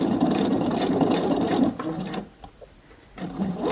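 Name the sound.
sewing machine stitching in the ditch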